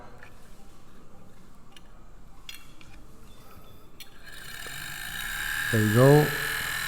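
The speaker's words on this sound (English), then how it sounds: "So you have the motor rotating at great speed." A small brushed DC motor on about 4 volts is given a push by hand and spins up fast, a buzzy whine climbing in pitch near the end, with a voice speaking briefly.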